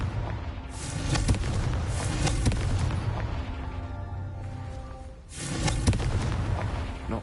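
Repeated booming blasts from the Confringo spell in the Hogwarts Legacy video game, a few heavy explosive bursts with rumbling tails separated by quieter stretches.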